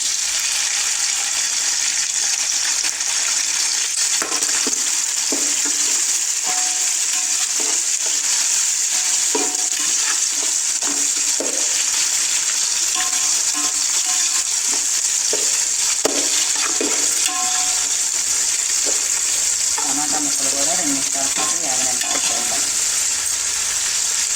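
Tomato pieces fry with onion for chicken pulao, a steady bright sizzle that runs the whole time, with occasional scrapes and stirring knocks of a spoon and a louder churning stir near the end.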